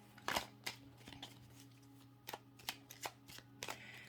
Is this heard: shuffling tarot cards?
yes